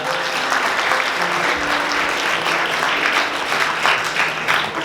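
Wedding guests applaud at a ceremony in the AW Convention Center, a full, steady round of clapping that fills the room throughout, with a faint hum of voices beneath it.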